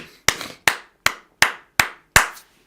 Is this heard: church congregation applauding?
yes